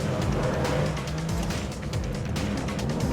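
A Porsche 911 rally car drives on an ice track, its engine droning steadily and close with faint tyre hiss and scrabbling throughout, no voices.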